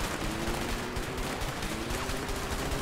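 Dense rapid gunfire from the video game A Way Out, a continuous crackling fusillade of shots at steady loudness throughout with no clear gaps.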